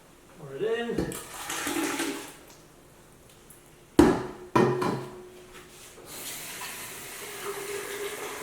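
Homemade ginger beer pouring and splashing into a pot in a few bursts, with a voice speaking briefly at the start.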